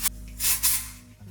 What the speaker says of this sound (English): And I go in with Batiste dry shampoo.